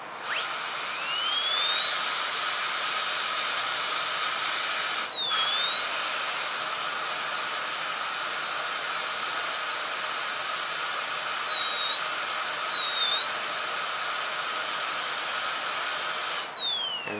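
A dental handpiece drills a tooth for crown preparation without coolant, giving a loud, piercing high-pitched whine that wavers in pitch and is broken by two brief pauses, with no talking.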